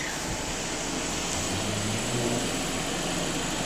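A VW Passat 2.0 TDI diesel engine holds a steady, dense drone at about 2500 rpm with no load, a continuous close mechanical hum without pauses.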